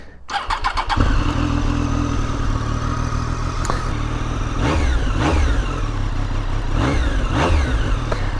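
A Triumph 765 Street Triple RS motorcycle cranks and fires, settling into a loud, steady close-up idle, then is blipped through several sharp rising revs that fall back each time, with no talking over it.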